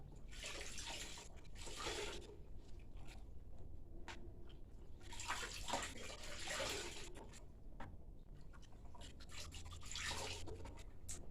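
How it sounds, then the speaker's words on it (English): Wet clothes are wrung out by hand into a 2-gallon bucket during emergency laundry, with water splashing and trickling in three separate bursts against a low steady background. "and wring out your clothes. And place them in your 2-gallon bucket."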